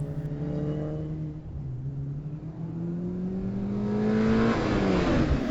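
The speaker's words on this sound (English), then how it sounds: "Jones in the ND MX-5, which is sort of like an MX-5 for old people." Mazda MX-5 race cars at a Hampton Downs sprint event, engine note rising steadily as a car accelerates, revving with gear changes and growing louder toward the end, heard alone.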